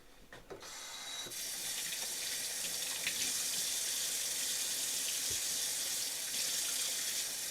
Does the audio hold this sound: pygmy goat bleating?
no